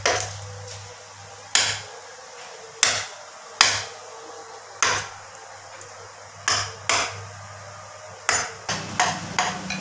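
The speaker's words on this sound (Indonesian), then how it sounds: "sejenak kita melihat Empu Gulol memahat kayu ulin ini" A mallet made of ulin ironwood strikes a chisel carving a hornbill bird figure from ulin ironwood, giving sharp, evenly spaced knocks roughly once a second, then a quicker run of taps at the end over a steady low hum.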